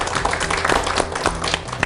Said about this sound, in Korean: 스스로 자기 자신한테 잘했다고 박수 한번 치십시오.